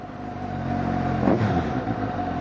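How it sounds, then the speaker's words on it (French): A Suzuki GSX-S750 motorcycle engine revs up near the middle, its whine rising over a steady running drone, loud and close. "mais qu'est-ce qu'elles ont les motos à gueuler comme ça là?"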